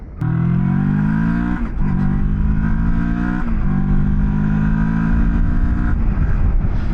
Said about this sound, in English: let's start out by riding the X-Cape 650, get a sense of the acceleration of this bike